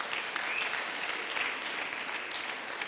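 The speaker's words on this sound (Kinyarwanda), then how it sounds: "Abonye Bishop Alexis na Madame mwahaguruka tugakomera Imana amashyi menshi cyane ku bwabo." A church congregation at a gospel concert claps loudly, with sustained dense applause from start to finish.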